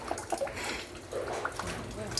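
Rainwater drips through a leaking house roof during rain, making a few scattered light plinks and splashes close by over a soft background wash, while someone talks.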